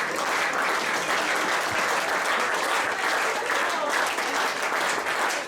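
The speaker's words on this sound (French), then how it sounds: "Alors, on peut les applaudir" Audience applause for the ESBF professional handball team at its official 2022-23 season presentation, a steady, dense, loud clapping that fills the whole stretch without a break.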